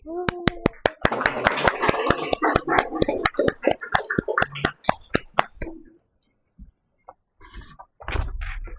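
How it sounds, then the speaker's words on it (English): Scattered hand claps at a fundraiser auction after a painting is won, sharp distinct claps from a small group fading out after about five seconds, then near-silence with a few faint noises and low murmur. "Get a round of applause"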